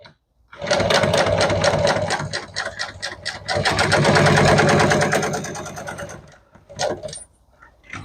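A sewing machine runs steadily through an upholstery stitch, its rapid mechanical whir close and loud, speeding up mid-run before stopping, followed by a few brief handling clicks.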